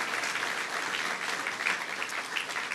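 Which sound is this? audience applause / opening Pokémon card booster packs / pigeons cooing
audience applause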